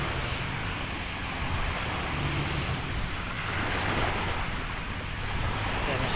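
Continuous wash of sea surf on a littered Manila Bay shore, with waves swelling and receding softly and wind buffeting the microphone throughout.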